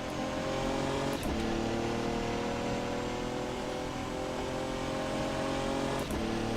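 Radical RXC GT3 race car engine in rFactor 2, a loud, steady high-revving drone under acceleration, close and continuous with a couple of brief gear-shift breaks.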